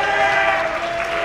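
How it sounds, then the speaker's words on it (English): Steady applause from a school talent show audience at the Army and Navy Academy, a dense wash of clapping filling the short moment without pause. "round of applause to the staff members that made this all possible."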